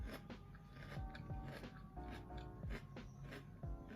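Close crunchy biting and chewing of a Snickers bar, a series of irregular crisp crunches over several seconds, quiet and without talk.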